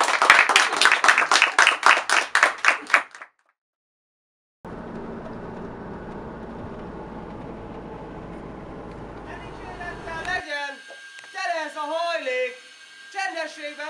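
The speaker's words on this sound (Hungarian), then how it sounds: "egy tapsot a vőlegény úrnak" Wedding guests at a Hungarian wedding clap in a strong, regular rhythm for the groom for about three seconds. After a break, a low vehicle rumble follows, then people talking.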